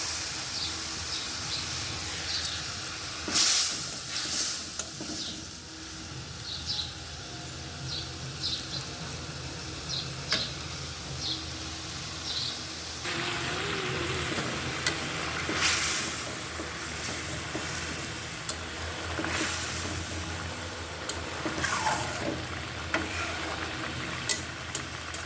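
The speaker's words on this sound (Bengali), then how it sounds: "এখন আমি এবার মাছটা দিয়ে দিলাম। মাছগুলো সিদ্ধ হতে হবে তো।" Fish simmers in a mustard curry with onions and green chillies, a faint, steady low sizzle and bubbling broken by occasional soft clicks of stirring.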